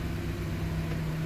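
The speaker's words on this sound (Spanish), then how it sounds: "Ok, no se apaga, el carro sigue encendido" A Chevrolet Aveo engine idles steadily with a low, constant hum and a faint mid-range drone, close and unchanging, with no speech over it.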